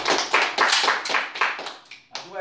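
Applause at a sport shooting award ceremony comes in uneven bursts of close, moderately loud hand claps. A brief voice breaks in near the end.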